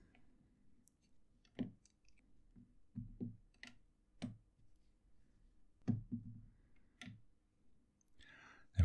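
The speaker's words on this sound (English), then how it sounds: "Let's take the caps off." Caps come off Wing Sung 698 piston-filler fountain pens in a series of faint, sharp plastic clicks and taps, scattered irregularly across a quiet background.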